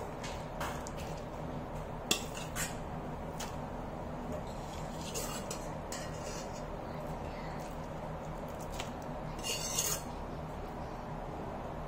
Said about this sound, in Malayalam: കുക്കറില് വേവിച്ചെടുത്ത നുറുക്ക് ഗോതമ്പ് നമുക്ക് ഇതിലേക്ക് ഇട്ട് കൊടുക്കാം